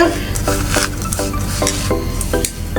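Fried chili being mixed by hand with raw garlic and onion: steady, rhythmic squishing and scraping strokes roughly every half second against a bowl, close and fairly loud, with no speech.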